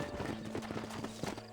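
Horse hooves clip-clop in a quick, steady rhythm with a whinny rising over them, the horse close and clear in the Red Dead Redemption video game.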